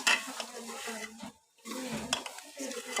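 Chicken being added to and fried in masala for chicken kadai: a close, steady sizzle and stirring scrape that drops out briefly partway through, then resumes, without speech.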